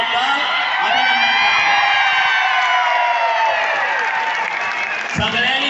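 A large crowd claps and cheers steadily at a political rally for Maharashtra's deputy chief minister, the dense applause loud and continuous throughout, with whoops rising over it.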